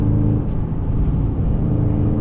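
A car's engine drones loudly and steadily from inside the cabin as it accelerates with paddle shifting, a constant low rumble with faint periodic ticks and no speech.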